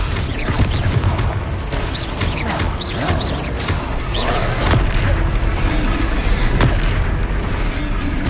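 Spell blasts from the Confringo fire curse in the Hogwarts Legacy video game, heavy booms and crashes piling up continuously over a dense, loud combat soundscape.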